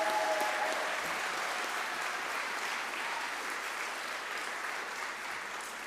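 Delegates at a party annual conference applaud to pass a motion by acclaim, a broad, sustained round of clapping that fades slightly toward the end.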